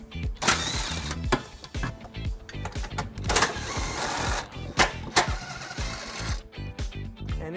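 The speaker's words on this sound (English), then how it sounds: "we're going to remove those using a 12mm socket" A 12mm socket wrench loosening bolts on a 1999 Infiniti QX4 during a trailer hitch installation, giving close, rapid mechanical ratcheting clicks and metallic knocks in uneven bursts.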